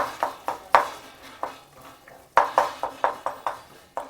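A spoon stirs and scrapes thick tomato chutney in a metal pan, making about a dozen sharp, close clinks and scrapes in uneven bursts over a soft background sizzle.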